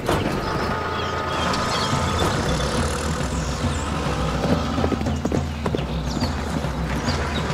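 Rhythmic hoofbeats clatter steadily over a busy, noisy background, like horses moving at pace nearby, with some mechanical rumble mixed in.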